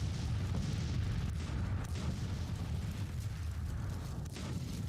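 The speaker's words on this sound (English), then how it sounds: "I'm hearing some musketry." Distant Civil War battle din in a strategy game at Fredericksburg, a continuous low rumble of musketry and artillery rolling steadily with no distinct individual shots standing out.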